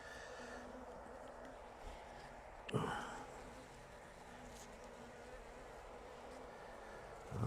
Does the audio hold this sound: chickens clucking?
no